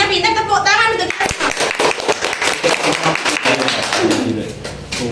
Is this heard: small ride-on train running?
no